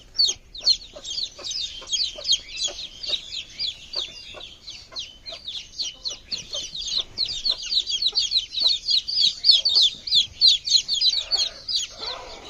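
Young chicks kept under a brooder light peep and chirp in a dense, continuous, rapid chorus, close and fairly loud throughout, with no voices.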